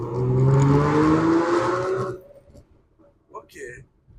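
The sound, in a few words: Ford Mustang drifting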